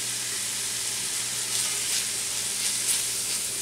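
Bacon, onions and jalapeno sizzle steadily in a pan for homemade baked beans, a soft even hiss with faint crackles throughout and no talking.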